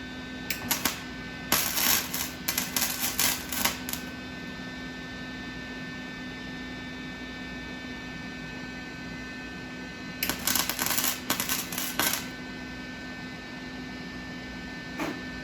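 Welding on a 1974 Chevy Nova body comes as two bursts of crackling, spitting arc noise, each lasting a couple of seconds, over a steady electrical hum with quiet gaps between.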